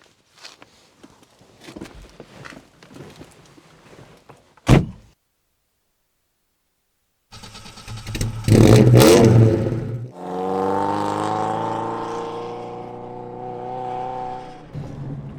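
Alfa Romeo Bertone 1750 coupé, a classic Italian car: a door thuds shut, then after a silence the engine cranks, fires and revs loudly before settling into a steady, close idle and pulling away.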